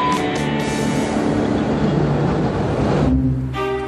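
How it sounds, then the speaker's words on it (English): A train rolls past close by, a loud, steady rumble with rail clatter and high metallic squeal that holds for about three seconds before dropping away. "There comes the train again."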